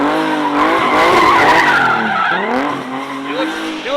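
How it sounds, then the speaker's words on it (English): Car tires squeal and skid loudly and continuously while drifting in tight donuts, with the engine revving underneath and a voice speaking briefly near the end. "I kind of have to walk the wheel back even in like these little donuts"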